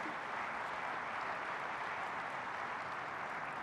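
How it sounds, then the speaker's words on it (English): Steady, continuous applause fills a large keynote hall at a corporate tech conference, a dense even wash of many hands clapping without pause or voices. "Please give a big round of applause to Morgan."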